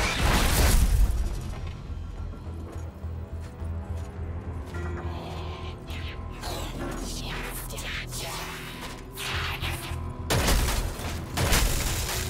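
An explosion at a ship's thrusters in a Destiny 2 cinematic, with deep booming blasts at the start and again later over continuous mechanical rumble and dense layered sound.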